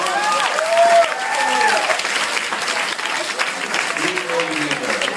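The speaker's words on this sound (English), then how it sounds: "give them a nice round of applause" Audience applause at a high school project graduation hypnotism show, steady clapping from a crowd that runs throughout while a voice talks over it.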